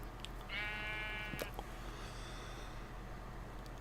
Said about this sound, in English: As you can hear, we got plenty of sheep in the area.